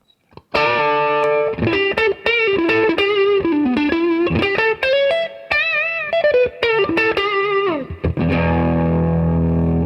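Electric guitar played through a Roland Blues Cube amp with a hot, overdriven breakup tone: a loud, continuous run of distorted picked notes and chords, ending on a sustained ringing chord.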